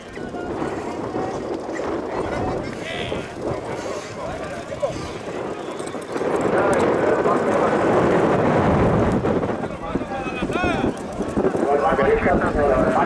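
Quarter horses gallop in a 250-yard match race, a thick rumble of hooves under loud crowd shouting and cheering, the noise swelling midway and staying dense to the end.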